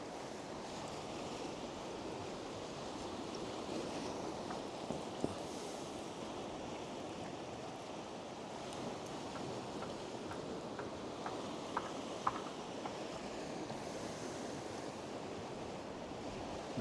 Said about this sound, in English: The size of them waves.